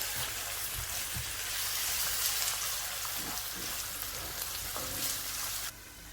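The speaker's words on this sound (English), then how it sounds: "Now we add our onions." Onions frying in hot oil with mustard seeds, curry leaves and ginger garlic paste, a close, steady crackling sizzle with a few soft stirring knocks, easing slightly at the very end.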